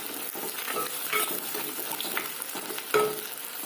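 Small shallots and chopped green chillies sizzle in a pan, a continuous moderate frying hiss broken by occasional scrapes and clinks of stirring, with no talking.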